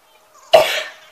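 A single short, sharp allergy cough, close and fairly loud, in an otherwise quiet moment.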